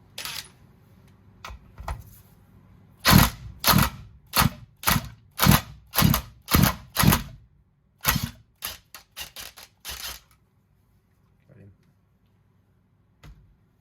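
An impact gun works loose a nut on a chainsaw during a restoration, firing loud, sharp hammering bursts in a rapid series, then a scatter of lighter clicks and taps before it falls quiet.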